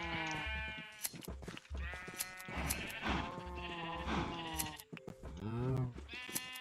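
Sheep in Minecraft bleating repeatedly, several overlapping wavering bleats in quick succession, loud and close, with no talk.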